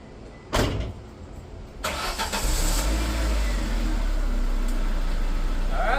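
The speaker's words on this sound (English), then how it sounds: "let's get that one wheel peel, baby" A Ford ZX2 car sits quiet, then a sharp bang and clatter lead into its engine roaring up for a one-wheel peel burnout, holding a loud, steady, close drone to the end.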